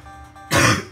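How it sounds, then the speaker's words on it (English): A single short, harsh cough or throat-clear bursts out close and loud after a brief quiet moment, from a person recovering from a cough. "Still coughing a bit, though."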